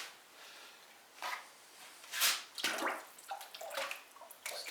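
Liquid raw glaze poured into a leather-hard thrown pottery cylinder, then swilled around inside: close splashing and sloshing in several uneven bursts, swelling and fading over a few seconds with no talk.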